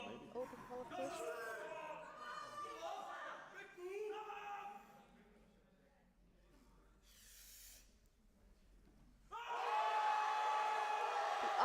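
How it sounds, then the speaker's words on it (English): Audience at a Benelux powerlifting tournament cheering and whooping for a lifter's deadlift attempt, swelling loudly near the end after a stretch of talk and quieter crowd murmur. "The audience cheering him on."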